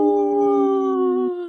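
A wolf howl comes through a radio broadcast: one long, sustained, loud howl with layered harmonics, holding steady for over a second, then dropping off and tapering at the end, with no talk over it.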